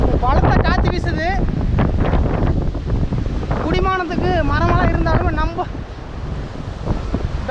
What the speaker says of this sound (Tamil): பலத்த காற்று வீசுது